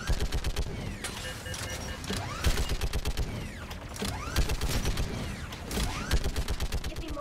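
Rhythmic turret gunfire in the video game Mass Effect 3, loud rapid bursts mixed with whirring, creaking mechanical sweeps as the turret rotates, repeating in cycles.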